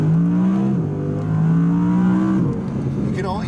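A 2017 Audi R8 V10 engine drones steadily, its pitch stepping through dual-clutch gear changes as it accelerates, loud and close, with a brief higher whir near the end.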